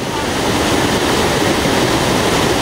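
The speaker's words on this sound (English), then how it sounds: "Here we go with the Thrasher from Streamline RC over its first waterfall" A waterfall rushes loud and constant as a broad, steady roar of turbulent water close by, with a Streamline RC Thrasher jet boat on a 5S LiPo about to go over it.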